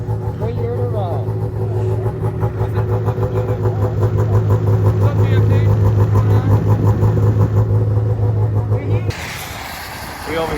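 Arctic Cat F5 snowmobile engine revving loudly and steadily up close on a snowy trail stop, a sustained droning roar that swells midway and cuts off near the end.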